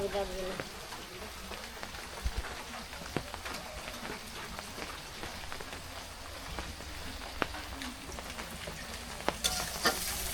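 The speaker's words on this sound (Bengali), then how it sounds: "বৃষ্টি আগের থেকে একটু বাড়লো হালকা" Light rain patters on a village home in a steady, close hiss with scattered drips while prawns and dried fish are being cooked.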